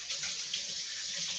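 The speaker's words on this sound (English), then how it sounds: "let me just wash my hands" A kitchen tap runs steadily as hands are washed under it, a close, continuous hiss of splashing water with no voices.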